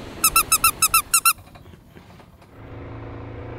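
A squeaky plush toy is squeezed in a quick run of about eight high, close squeaks, then falls silent, leaving faint background rumble.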